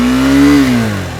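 A Husqvarna Svartpilen 250 single-cylinder motorcycle engine revs up loudly and close, its steady tone rising slightly, then easing back down as the revs drop over about a second.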